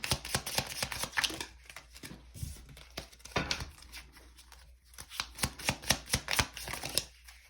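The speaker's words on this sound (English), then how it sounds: "Always destroy my setup when I am shuffling my cards." Tarot cards shuffled by hand at close range, a rapid papery riffling and flicking in quick bursts with short pauses, fairly quiet with no talking.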